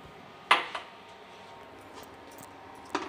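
A metal kadhai set down on a stove, with a sharp clank followed by a lighter knock and a later clink, close and otherwise quiet.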